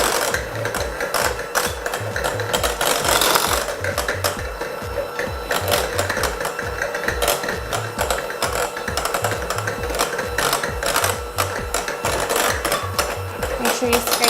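An electric mixer beating cookie dough in a bowl, a steady rhythmic whirring and thumping drone that runs loud and unbroken throughout, close by.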